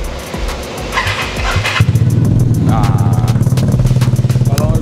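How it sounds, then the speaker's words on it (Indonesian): A 2021 Vespa Sprint scooter with an unmodified engine idles through its exhaust, a steady, close, throbbing pulse that settles into an even rhythm after a brief rustle at the start. "gue mau kasih dengar kalian suara knalpotnya."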